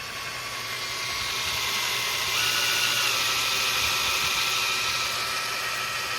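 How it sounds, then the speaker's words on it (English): A power drill boring a hole through the rear brake rotor disc of a 2010-2016 Cadillac SRX FWD, a steady whining drone that holds throughout and rises slightly in pitch midway, with no talk. "So let's drill a hole."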